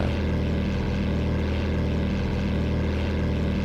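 The propeller engine of a Cessna 172P in the FlightGear flight simulator drones steadily and loudly as the throttle is eased up slightly, a continuous close rumble with no talk.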